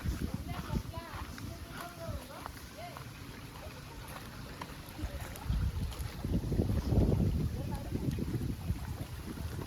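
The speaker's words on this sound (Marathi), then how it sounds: "इकडनं घेतला पाणी, या व्हाळाक लावला इंजिन" An engine-driven water pump set up at a stream churns out a low, continuous rumble with gusty wind noise mixed in, and people talk over it throughout.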